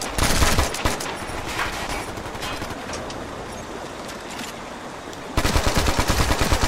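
AK200 rifle fired in the shooter game Ghost Recon Future Soldier, rattling off rapid automatic bursts with sharp repeated cracks, close and loud, a brief pause midway and a final burst near the end.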